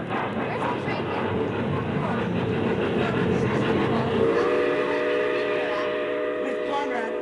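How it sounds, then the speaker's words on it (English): Rumbling train noise fills the scene, then a sustained multi-tone whistle begins midway and holds, fairly loud, with no distinct talk. "Albert, the train's leaving."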